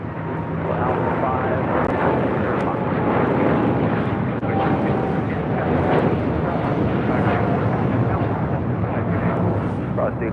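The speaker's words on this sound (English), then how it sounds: "we got the United Dreamliner now rolling down." A United Boeing 787 Dreamliner rolls down the runway at LAX, a loud steady jet engine roar that continues throughout, with voices talking over it.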